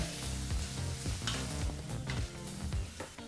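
Green chilies and curry leaves frying on a low flame for festival mango rice, a steady dense sizzle with repeated soft stirring scrapes running throughout, fairly close and alone without voices.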